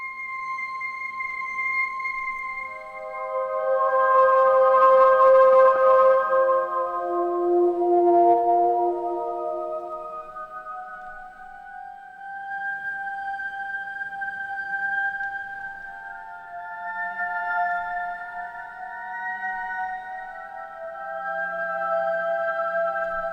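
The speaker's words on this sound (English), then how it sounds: "Very atmospheric, can definitely be used as a drone" A slow, airy synth drone with layered sustained tones that swell and shift, atmospheric and spacious, no voices.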